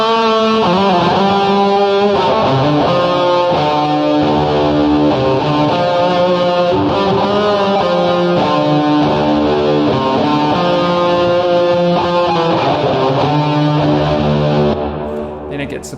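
Distorted electric guitar solo from a song plays as a dense, sustained wall of fuzzy chords and lead lines with effects, loud and continuous for about fifteen seconds before fading at the end.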